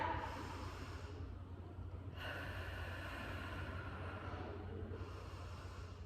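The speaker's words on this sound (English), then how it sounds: "I'm going to take another deep breath" Two slow, deep breaths drawn in and let out, faint and close, with breathy rushing air swelling and fading in a steady rhythm.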